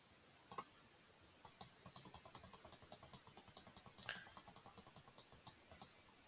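A computer mouse clicks while values are set in a circuit simulation: a quiet, close series of crisp plastic clicks, a few single ones, then a rapid, steady run of repeated clicks with no speech.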